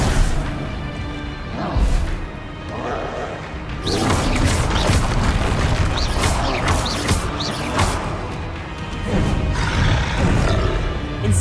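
Incendio and Confringo spell blasts fire off one after another in the Hogwarts Legacy video game, loud whooshing bursts and crashing impacts layered over a rumbling game soundscape, repeating continuously.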